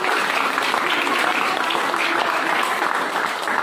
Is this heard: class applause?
yes